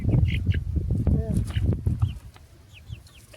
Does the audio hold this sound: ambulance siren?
no